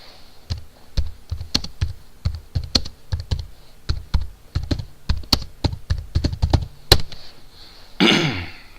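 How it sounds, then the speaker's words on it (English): A computer keyboard types out a web search in a quick, uneven run of crisp close-up keystrokes lasting several seconds, ending in a brief rustling burst, with no voices. "And so I could type in hot tub removal Arvada."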